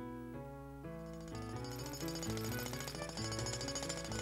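Road repair work on street potholes, a loud continuous mechanical racket with dense clattering and droning tones that swell and thicken partway through, heard alone without talk.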